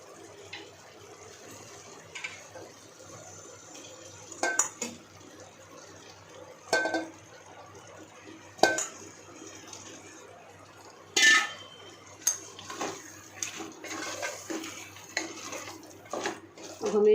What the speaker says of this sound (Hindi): अब हम इसके अंदर चिकन ऐड करेंगे।